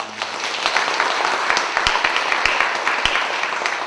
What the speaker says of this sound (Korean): 우리 유전사님 그동안 수고 많이 하셨다고 우리 박수 한번